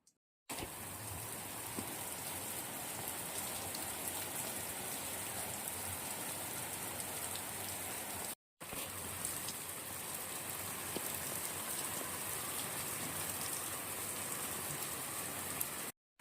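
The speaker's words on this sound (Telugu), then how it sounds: "ఈరోజు వర్షం పడుతూనే ఉంది" Heavy rain pours steadily over a village, a dense, even hiss of drops on surfaces that runs unbroken apart from a brief cut midway, with no voices.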